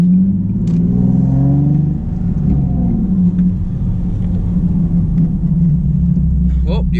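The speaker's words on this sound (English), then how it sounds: "We're gonna do another first gear pull right here." A Nissan 370Z engine droning loudly from inside the car during a first-gear pull, a deep steady rumble with pitch sweeping upward, and a voice speaks briefly over it.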